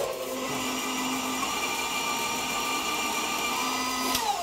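A stand mixer whirs steadily on low speed creaming butter and sugar, a constant motor hum with a faint clank near the end, no voices.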